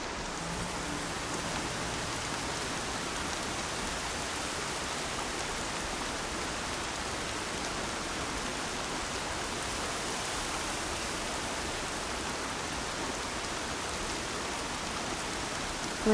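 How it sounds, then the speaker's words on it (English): Steady, even rain hiss from the video game Horizon Zero Dawn filling the whole stretch, a dense wash of falling drops with no pauses and no voices. "Rain's too loud to hear much."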